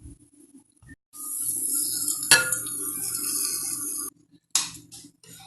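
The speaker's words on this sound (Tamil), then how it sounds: "இதில் இப்போ தாளிப்பு போடுறேன்." Spices tempering in hot oil for a curd dish, a close, steady sizzle lasting a few seconds, marked by a sharp clink of metal and a brief burst near the end.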